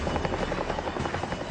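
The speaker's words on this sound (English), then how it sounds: "Roberts' colleagues have been picked up by another Chinook and are on their way back" A Chinook military helicopter flies past with a dense, rapid rotor thudding and broadband rumble, loud and close in a short burst without talk.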